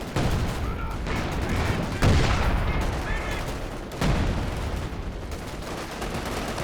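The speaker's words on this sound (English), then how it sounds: "Using the 105 barrage from long range here" Distant artillery barrage from a 105 mm gun in a Company of Heroes 2 multiplayer battle, loud repeated booming impacts and blasts at irregular intervals, with sharp strikes near two and four seconds over constant battle noise.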